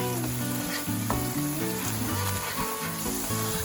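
Steady, loud sizzling of ginger garlic paste frying in a hot pan, with occasional scraping and stirring clatter throughout.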